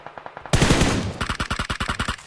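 Automatic gunfire in the mobile battle-royale game PUBG Mobile: a long, loud burst of rapid shots followed by a steady series of evenly spaced single rounds, close and clear with no talk over it.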